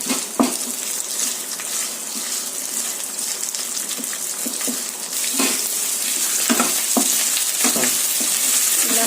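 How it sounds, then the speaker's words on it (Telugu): Onion, green chillies and curry leaves fry in a pan for egg rice. A loud, close, steady sizzle carries sharp stirring clicks and grows slightly stronger in the second half. "ఉల్లిపాయ, కొంచెం కరివేపాకు, ఇంకొంచెం ఫ్రై అవ్వాలి"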